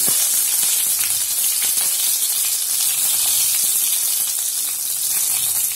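Cumin seeds, mustard seeds and chili sizzle steadily in a pan of well-heated oil, a loud continuous crackling hiss with no talking.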